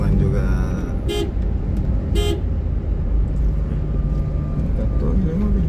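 Car passing on a straight country road between Enrekang and Pinrang, heard as a steady broad road rumble from inside a moving vehicle, with a couple of brief horn toots and a voice talking over it.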